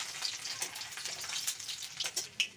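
Garlic frying in hot oil alongside dried red chillies in a pan, giving a steady soft crackling sizzle with small sharper pops, close and alone.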